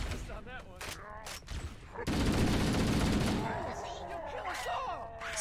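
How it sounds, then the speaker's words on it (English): Gunfire from the video game Halo: Combat Evolved, a sustained rapid fusillade erupting after the first two seconds and continuing loudly, mixed with game sound effects and a voice talking over it. "Who's shooting me?"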